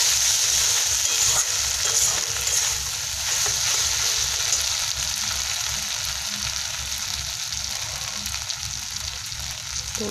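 Chili chicken fries in a pan with tomato and chili sauces, a loud, constant sizzle with rhythmic scraping of a spatula stirring throughout, close and without speech.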